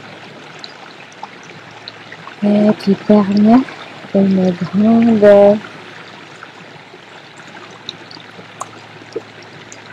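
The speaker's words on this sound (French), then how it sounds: "Écoutez le bruit de cette nature avec ce magnifique petit ruisseau" A small stream flows through a natural setting, giving a steady soft rushing hiss throughout, while a voice speaks briefly in the middle.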